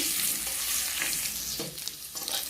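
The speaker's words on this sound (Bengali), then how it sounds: "সবারই প্রথমে আমি আলু দিয়ে দেব। আলুটাকে একটু নেড়ে ছেড়ে দেব।" Potatoes fry in a pan with whole cumin seeds, giving a soft, close sizzle with a few stirring and scraping strokes, fairly quiet and with no speech.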